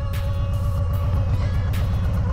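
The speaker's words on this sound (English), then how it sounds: "I guess this is what it sounds like when it needs gas. It's starving for fuel." A 2020 Harley-Davidson Low Rider S motorcycle engine runs rough and low on fuel, a loud, close, continuous low rumble with uneven pulsing throughout and no talking.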